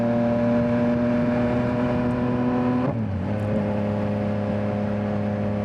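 A motorcycle engine hums steadily under light, careful throttle on a night ride in Southern California. The tone is sustained and even, then drops sharply as the throttle eases off and settles at a lower pitch.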